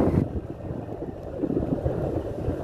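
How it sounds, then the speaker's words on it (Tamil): A deep-sea fishing boat on open water near the Pamban bridge, its low engine rumble steady and close, with wind buffeting the microphone and no talking. "இது வந்து ஆழ்கடல் படகு."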